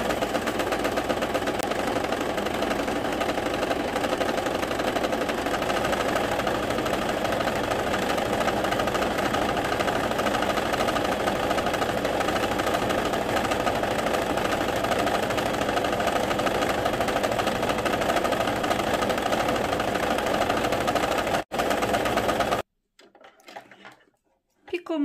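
A home sewing machine runs steadily and loudly for about twenty seconds, stitching decorative piping onto a placemat, then stops abruptly. A few faint handling noises follow.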